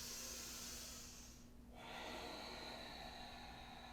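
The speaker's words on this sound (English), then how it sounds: "Big breath in and out." A big breath in and out during a gentle yoga stretch, soft and airy under a steady low hum, with the flow briefly dipping midway before the exhale resumes; quiet, close and without speech.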